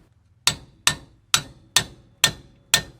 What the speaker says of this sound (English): now we can remove this retaining clip and then hammer out the soft line